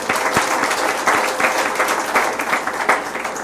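A church congregation bursts into sustained, dense applause after a call to clap for the Lord at a Spanish-language sermon, loud and steady throughout with no break.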